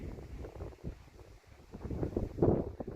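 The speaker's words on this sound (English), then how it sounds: "It's getting quite windy" Gusts of wind buffet the microphone in low, uneven rumbles in the Sierra mountains near Mammoth Lakes, rising and falling, growing stronger toward the end.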